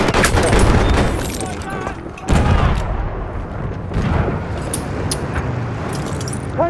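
Battlefield 1 combat on the Amiens map during an Operations match: bursts of gunfire and heavy thuds, with a sharp loud crack midway, under players talking over the action.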